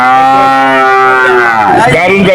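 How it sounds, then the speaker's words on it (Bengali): A calf at the Shahpur cattle market lets out a single long, loud moo close by, its voice rising and wavering toward the end. "দারুণ দারুণ বাছুর"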